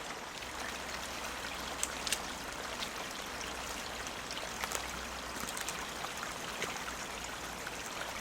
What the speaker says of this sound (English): Currently there's water flowing